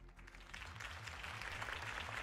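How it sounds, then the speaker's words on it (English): A crowd applauds after a campaign speech for Harvey Dent in the video game Batman: The Telltale Series, a faint, steady wash of clapping with a low music bed beneath. "If only Mr. Wayne, my campaign's largest backer, could have heard that applause"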